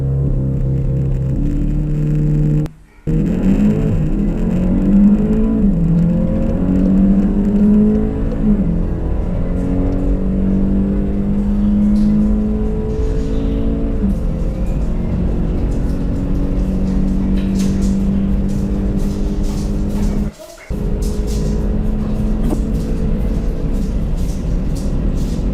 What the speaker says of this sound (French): on va se préparer une petite accélération pour voir un peu ce que ça donne